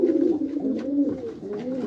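White pigeons in a loft give soft, low rolling coos, a couple of overlapping phrases close by with faint rustling behind.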